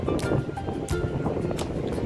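Waves at the seashore at sunset, a steady rushing wash with periodic surges of surf, loud and close with wind buffeting the microphone and no clear talk.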